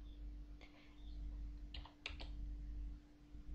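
A few scattered key presses on a computer keyboard during play of the Aardwolf MUD, sharp close clicks in small clusters separated by pauses, with a constant mains hum underneath.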